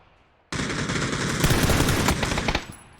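Sustained close automatic gunfire in PUBG during a pro scrim, a loud rapid burst that cuts in suddenly and rattles steadily for about two seconds before tapering off.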